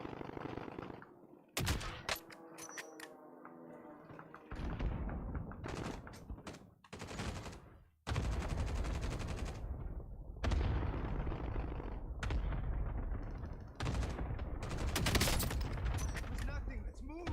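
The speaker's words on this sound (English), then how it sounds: "Allied precision airstrike incoming." Video game battlefield with an allied precision airstrike: bursts of heavy gunfire and explosive blasts, loud and close, in rapid clusters separated by brief lulls, with some voices in between.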